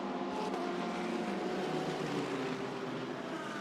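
GT race cars head down toward the chicane at Monza, a steady, fairly distant broadband engine roar with no voices.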